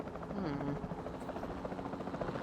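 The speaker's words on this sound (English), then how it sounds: "Then the sensible thing is to take a capture team helicopter." A capture team helicopter in Jurassic World Evolution 2 drones with a steady rotor buzz throughout, loud and continuous, with brief game tones over it.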